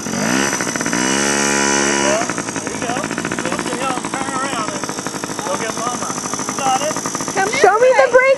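A Yamaha PW50 dirt bike engine buzzes and revs as a child rides it outdoors, with a high, rising whine that varies in pitch as the throttle opens, and an adult calls out over it.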